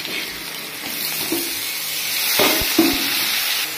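Potatoes dropped into hot oil alongside tomato and eggplant in a home curry pan, giving a steady broadband sizzle with a few sharp spatters and stirring knocks near the end.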